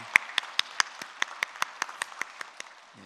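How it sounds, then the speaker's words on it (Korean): Slow, rhythmic unison clapping from a church congregation, about fourteen evenly spaced claps over a few seconds, moderately loud and roomy, with no talk over it. "하나님께 우리 영광의 박수를 함께 보내드리겠습니다"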